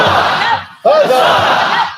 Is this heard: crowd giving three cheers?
yes